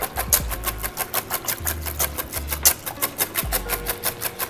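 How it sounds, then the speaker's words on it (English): Eggs whisked with milk in a bowl for Korean egg sandwiches: a quick, steady, even rhythm of whisk strokes ticking against the bowl, close and continuous under a low background hum. "Then whisk it away."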